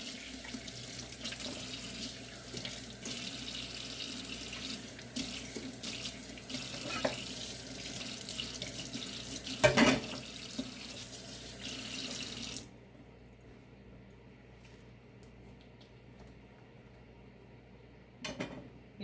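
Tap water runs steadily into a sink while food is washed by hand for Thanksgiving dressing, a continuous hiss lasting most of the clip before cutting off, followed by quiet handling and a brief splash.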